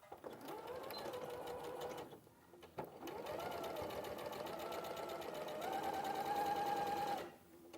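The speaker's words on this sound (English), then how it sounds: "Just sew around all the way." A sewing machine runs in steady bursts, stitching around a garment welt: a close, continuous mechanical whir that pauses twice briefly and then resumes, with a faint voice now and then.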